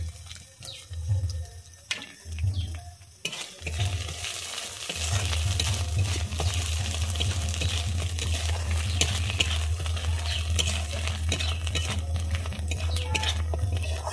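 Ground chilli, Kashmiri chilli, coriander and cumin powders frying in oil for a vegetarian potol korma, with a steady close sizzle and stirring scrapes running throughout after a brief quieter start.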